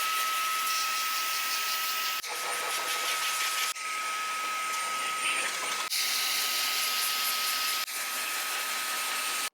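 A vacuum cleaner drones steadily while cleaning a Passap knitting machine of lint and dust from fluffy yarns, its loud hiss broken by a few brief cuts and shifts in pitch as the nozzle moves, with no talking.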